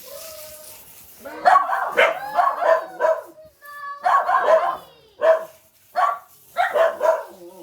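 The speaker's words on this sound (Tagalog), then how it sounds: "Brown dog. This is the dog." A dog barks in short clustered bursts nearby, with whiny, yipping tones between the barks.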